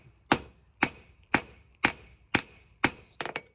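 A hammer strikes scrap metal on an anvil while drawing out a small knife tang: six evenly spaced ringing blows about half a second apart, then two quicker lighter taps, close and clear with no talking.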